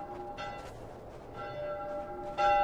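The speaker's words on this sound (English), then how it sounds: "Who's ringing the damn bell?" A bell rings in The Last of Us, with several resonant tolling strikes spaced about a second apart, the last one loudest and ringing on over a quiet game ambience.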